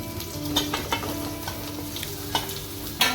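Diced potatoes fry with cumin in a pan for sabudana khichdi, a continuous close sizzle broken by several sharp scraping stirs of a spoon, no voices.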